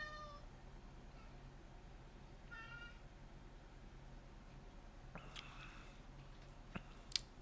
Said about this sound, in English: My cat. They know it's almost time to eat.